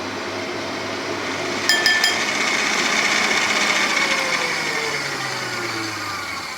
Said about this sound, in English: So once you're satisfied that that's been whisked up enough